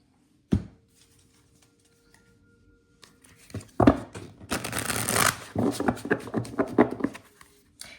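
Oracle cards from a deck being shuffled by hand in a quiet room, giving a brief snap, then a dense run of riffling and sliding card noise that builds and continues steadily to the end.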